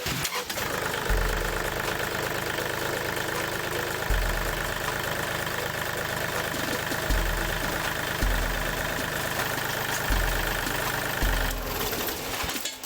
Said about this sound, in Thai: จากนั้นเดี๋ยวจะสตาร์ทเครื่องนะครับ